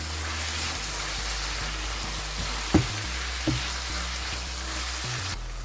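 Minced chicken keema with black pepper, dried fenugreek leaves and green chillies stirred in a frying pan, a soft steady sizzle with two brief sharp scrapes or knocks of the spoon against the pan.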